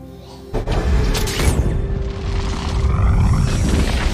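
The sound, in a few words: gas cylinder explosion in a film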